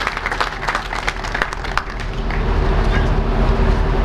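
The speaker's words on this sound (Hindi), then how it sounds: "उनका जोरदार तालियों के साथ स्वागत करें" A crowd gathered to welcome a guest claps loudly at first, the dense clapping giving way to a rumbling, washed-out noise that grows in the second half.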